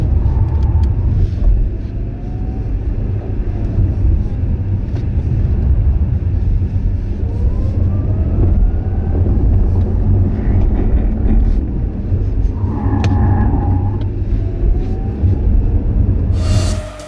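An Audi RS e-tron GT electric car drives with a steady low road rumble and tire noise throughout, broken by faint whirring rises in pitch, loud and continuous without talk.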